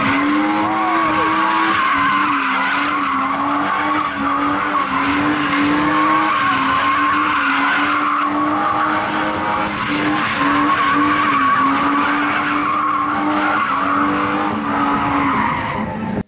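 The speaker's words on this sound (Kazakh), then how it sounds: "Жарыс жолына ресейлік ВАЗ, жапондық Toyota, Nissan, кәрістің Hyundai," Cars in a local drift race, with Russian VAZ, Japanese Toyota and Nissan, Korean Hyundai and German BMW entries, skid with sustained tire squeal over revving engines, loud and continuous with no talk.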